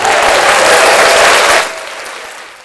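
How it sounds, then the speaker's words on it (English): Loud audience applause from a live crowd, a dense roar of clapping that holds strong, then drops off sharply into a softer tail. "Please hold your applause,"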